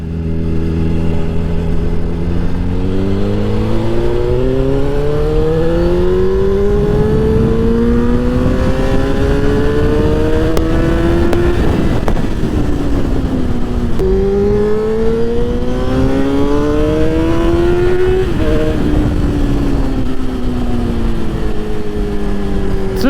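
A motorbike engine fitted with a K&N panel air filter revs repeatedly, pitch climbing and falling through several loud, close throttle sweeps with no talking over it.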